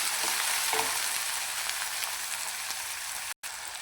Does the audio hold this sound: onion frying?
yes